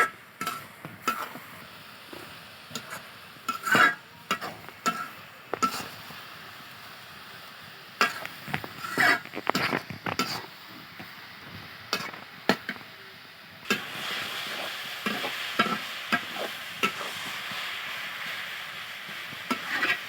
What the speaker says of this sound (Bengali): এভাবে অনবরত লাড়তে হবে খুরচুনটা দিয়ে, তাহলে আর কি দলা পাকায় যাবে না